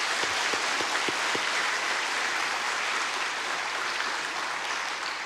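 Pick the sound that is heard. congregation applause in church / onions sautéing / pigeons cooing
congregation applause in church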